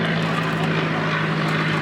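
Vintage airplane flying at an aerodrome, a continuous droning propeller engine held steady and fairly loud throughout, with no talk.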